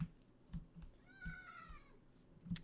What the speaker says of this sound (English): my cat apparently hopes that there are no sheep because he's meowing at me